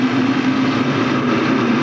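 SK modified race cars racing side by side at Stafford Speedway, a dense, steady engine roar heard from a distance with no pauses, filling the whole moment without any voices.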